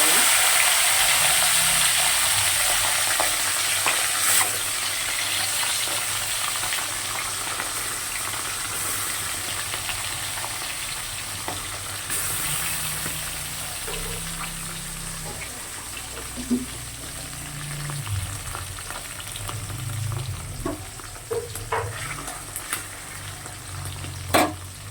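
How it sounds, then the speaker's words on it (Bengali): Fish frying in hot oil in a kadai, a steady close sizzle and crackle running the whole time, with occasional stirring clinks and a low background hum. "এখানে দেখো তেল তো গরম হয়ে গেছে, খুব ভালো করে মাছগুলোকে দিয়ে দেবো।"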